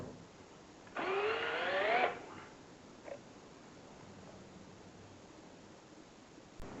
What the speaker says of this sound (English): Drill your hole the same width as your bolt.